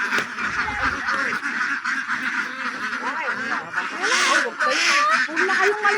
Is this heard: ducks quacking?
yes